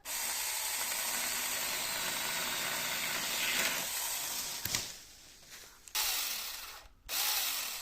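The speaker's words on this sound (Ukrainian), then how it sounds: "відпилюємо гілку. Тобто пилка запросто справляється ось навіть з таким деревом" A loud, steady electric pole saw motor whine with a rough cutting rasp through a tree branch runs for several seconds, then drops off briefly, revs again, and cuts out near the end.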